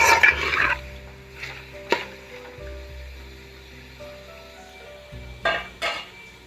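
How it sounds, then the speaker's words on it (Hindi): A spinach and mutton mixture for deghi palak gosht is stirred and sautéed in a pot, with sharp metal spoon scrapes and clinks against the pot over a low background hum. "और अच्छे से मिक्स करके इसकी भुनाई करेंगे 2 से 3 मिनट।"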